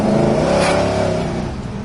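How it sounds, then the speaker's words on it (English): A 1967 Pontiac GTO accelerates with a loud, close engine drone that rises briefly and then settles, heard alone without talk. "Car's got plenty of pickup."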